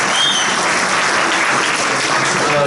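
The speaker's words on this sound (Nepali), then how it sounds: "हुन्छ मिठो गीतको लागि फेरि अर्को जोरदार ताली दिनुहोस् उहाँहरूलाई।" Loud, dense applause from an audience at a youth fellowship gathering after a song, continuous clapping filling the whole moment with no breaks.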